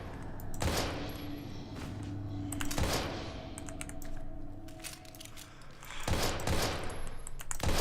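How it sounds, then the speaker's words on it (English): Gunfire in the horror game Daymare 1998, a few loud separated shots with booming tails over a rumbling background, interspersed with clicky mechanical sounds. "Alright, yeah, I'm gonna have to shoot you."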